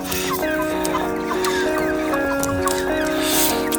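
Chickens cluck steadily up close, a busy chorus of short calls with occasional louder squawks, continuous throughout.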